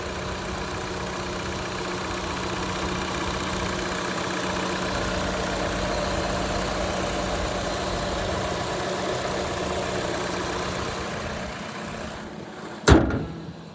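A 2012 Nissan Qashqai engine idles steadily up close with a constant low hum, ending in a brief sharp knock near the end.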